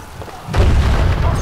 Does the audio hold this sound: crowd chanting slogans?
no